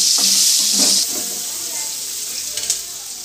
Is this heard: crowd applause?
no